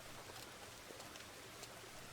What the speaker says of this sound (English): Well, it's raining this morning